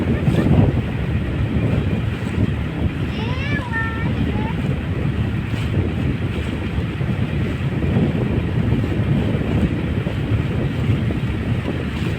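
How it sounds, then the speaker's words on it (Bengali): A ship's engine starts up on a Sundarbans river, a steady low rumble running throughout under wind noise and nearby voices. "জাহাজটিও ঘুরতেছে মাত্র স্টার্ট দিল জাহাজটি"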